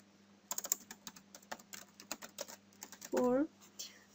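Rapid clicking keystrokes on a computer keyboard, close and distinct, with a brief voiced sound breaking in near the end.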